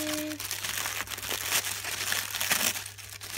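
Decorative wrapping paper crinkles and rustles as an unboxing package is opened by hand, a close, steady stream of crisp crackling and crumpling, with no talking.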